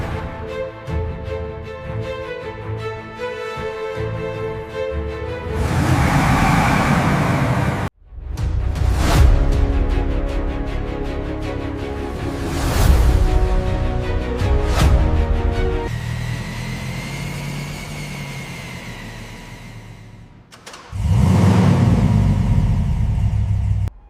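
The Dragon monster truck's engine droning as it drives forward, with loud rumbling surges and whooshing swells layered over a musical backing, and sharp cuts between sections.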